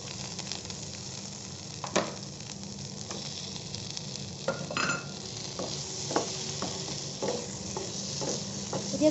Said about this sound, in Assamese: এতিয়া গোটেইখিনি ধুনীয়াকৈ মিক্স কৰি ফ্ৰাই কৰিব লাগিব অলপ টাইম।